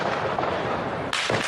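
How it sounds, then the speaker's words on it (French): Heavy gunfire during a terrorist attack in central Vienna at night, heard as a dull rumbling barrage, then a sharp loud crack near the end, distant and echoing through city streets. "Des tirs nourris en plein centre-ville de Vienne"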